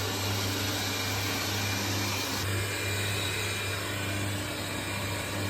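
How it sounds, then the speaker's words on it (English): A Xiaomi Robot Vacuum X20+ robot vacuum cleaner runs in vacuum-only mode across a home floor, giving a steady, loud, continuous motor whir and broadband suction hiss with no speech. "Right now it's only vacuuming"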